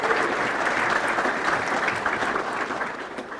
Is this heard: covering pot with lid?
no